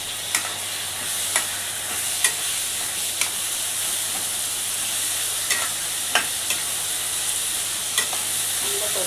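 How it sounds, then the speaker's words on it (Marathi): Garlic-ginger paste and tomato fry in a pan with a constant hissing sizzle, punctuated every second or so by sharp ticks of a spoon stirring against the metal, close up and without speech. "आता त्यात आपण लसूण अद्रकची पेस्ट टाकूया आणि टोमॅटो टाकूया।"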